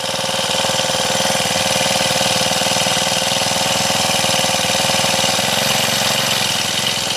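A Honda FG110 tiller's four-stroke engine runs steadily and loudly at a constant idle, a dense, even mechanical drone throughout with no talk over it.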